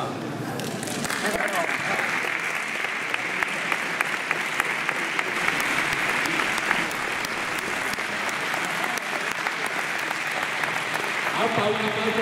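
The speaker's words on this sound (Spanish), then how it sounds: "un aplauso para ellos" An audience claps for the champions at a pala and paleta goma final in Albelda de Iregua, a sustained, full round of applause with a few voices and shouts mixed in underneath.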